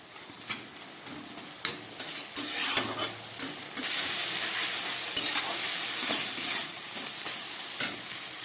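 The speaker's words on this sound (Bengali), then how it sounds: "টক দই দেবার পরে মশলাটা কষছে" A spice masala with sour yogurt, part of a soybean kosha, sautés over medium heat in a pan, a loud close sizzle with spatula scrapes and knocks against the metal.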